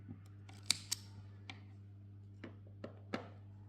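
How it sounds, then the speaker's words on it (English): Scissors snipping yarn while finishing a small crocheted owl keychain, heard as a few quiet, sharp clicks and snips spaced out over a low steady hum, close and faint. "You can just cut the extra yarn."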